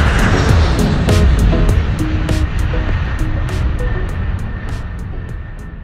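A loud, steady roar of an airplane taking off, with broadband rushing noise and a few sharp clicks over it.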